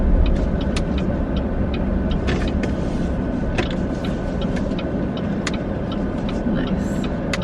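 Car driven by a first-time driver: steady, loud road and engine rumble throughout, with faint clicks and light rattles inside the cabin over the drone.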